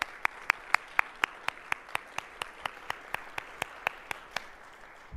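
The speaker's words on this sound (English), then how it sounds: "Let's give them all a round of applause." Audience applause after a panel discussion: a faint wash of distant clapping, with one set of hands clapping sharply and evenly close by, about four claps per second.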